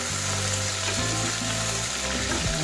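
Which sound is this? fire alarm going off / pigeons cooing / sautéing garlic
sautéing garlic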